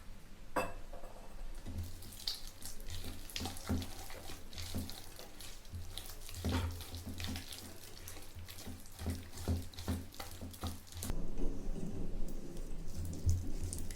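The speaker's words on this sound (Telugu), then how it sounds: "కొంచెం వాటర్ పోసుకుంటున్నాను" Water splashes into onion fritter (punugulu) batter while it is mixed, a run of wet pouring and stirring sounds with irregular slaps and squelches, close and moderately loud.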